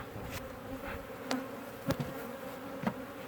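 Killer bees buzz continuously in a stirred-up top bar hive, a dense, agitated drone with several brief closer passes of individual bees.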